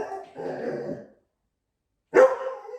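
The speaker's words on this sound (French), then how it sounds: "Vous voulez entendre un chien aboyer?" A small dog barks at home: a brief burst of yapping, a pause of about a second, then another sharp bark, close and fairly loud.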